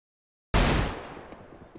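A single loud Desert Eagle shot in a competitive shooter video game bursts out abruptly after silence, then its booming tail fades away over about a second.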